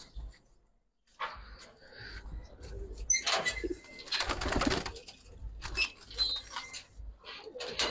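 Pet pigeons, silver, army and khaki fancy birds, cooing and fluttering close by in short soft bursts with quiet gaps, with no talk over them.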